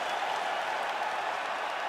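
An arena crowd in the UFC 5 video game cheers and applauds steadily after a five-round fight, a dense, even roar of clapping and shouting that holds at one level throughout, with no voices standing out.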